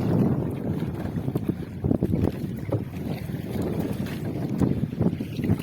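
Sea water slaps and washes against the hull of a small fishing boat out at sea, with irregular splashes and wind buffeting the microphone, steady and fairly close, with no talk.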